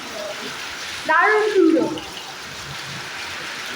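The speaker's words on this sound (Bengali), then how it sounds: "এই যে একদম সুন্দর বন্যা বইছে, আমরা বাড়িতে বসে ফিল নিতে পারছি বন্যা।" Floodwater flows in a steady broadband wash throughout, with a brief spoken exclamation heard over it partway through.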